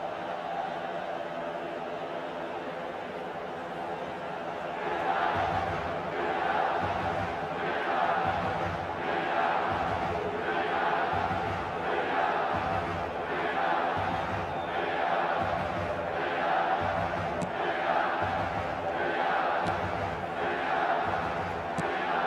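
Stadium crowd in eFootball roars and chants in steady rhythmic surges, a broad distant wash that swells and pulses evenly throughout.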